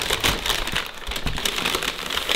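Fast food paper bags crinkling and rustling as they are handled close by, with irregular crisp bursts of crackle over a couple of seconds.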